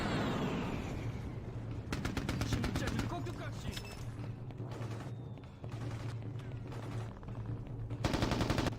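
Artillery strike in the Mercenaries: Playground of Destruction video game brings a dense run of rapid gunfire and blasts, loud and continuous with short gaps, under a voice speaking.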